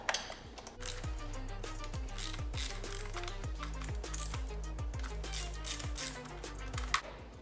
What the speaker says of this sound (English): Then you've got 4 bolts on this side, so we'll loosen those.